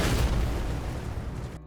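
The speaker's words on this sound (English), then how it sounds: "What's shooting at us is an enormous golem" In the Elden Ring video game, a giant golem fires at the player, producing a heavy, booming blast that rolls out and decays over about a second and a half before cutting off.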